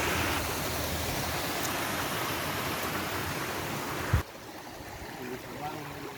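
A river rushes past large rocks fallen from a landslide, a loud, continuous roar of flowing water that drops abruptly to a quieter, steady wash near the end.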